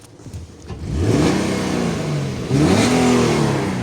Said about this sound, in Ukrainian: Ну зараз вам трішки тут погазую.